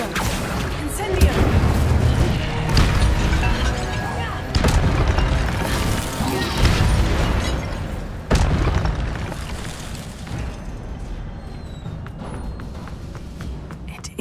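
Incendio fire spell cast repeatedly in Hogwarts Legacy, a series of loud booming bursts with rumbling low end, spaced every couple of seconds amid continuous game sound.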